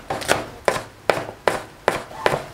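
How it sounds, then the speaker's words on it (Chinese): A knife chops a length of scallion into small pieces on a cutting board, with six sharp, evenly spaced thuds landing close and clear. "一节大葱先切成长条，然后再切成葱花"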